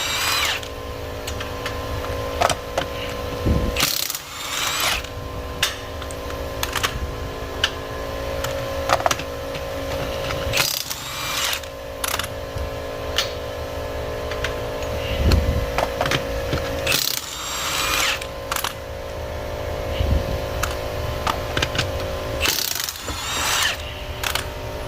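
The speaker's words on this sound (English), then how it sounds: "Milwaukee 18 volt impact from Home Depot. Put it on setting number 3, and this thing will rip it right off of there." A Milwaukee 18 volt impact driver on setting 3 buzzes in repeated loud bursts as it works a part loose, with mechanical rattles and clanks between the runs and no talk.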